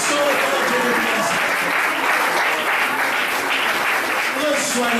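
A church congregation at an Easter service applauds in acclamation, loud dense clapping sustained throughout with crowd noise mixed in, close and steady.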